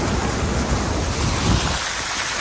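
Floodwater runs like a river through a street in heavy rain, making a loud, steady rushing roar that never lets up.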